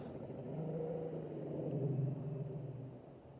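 A low, rumbling bass boat motor drones steadily at a distance, rough and uneven, sounding in poor condition, with no voices.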